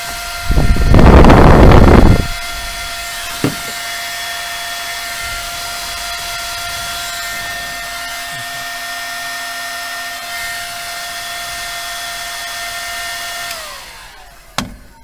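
Heat gun blowing on plastic until it melts: a loud burst of airflow at the start, then a steady whining drone that holds until a click and fade near the end, with no speech.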